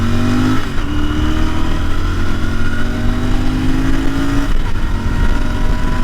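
A Royal Enfield Interceptor 650 BS6 2021 motorcycle pulls away and accelerates, its engine tone climbing steadily and loud close by, with a brief dip around a gear change before rising again, no talk over it.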